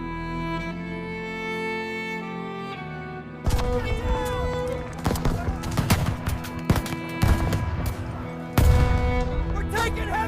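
Heavy gunfire and explosions from a World War I battle break in abruptly after a sustained musical tone. Loud, chaotic bursts and booms continue throughout, mixed with a score and a voice shouting.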